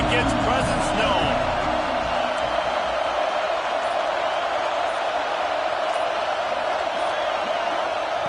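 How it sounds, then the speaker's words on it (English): Dense, steady roar of a large football stadium crowd at Alabama during a Florida game, a continuous wash of voices filling the air at constant loudness, with an announcer talking over it. "This crowd ready to make its presence known."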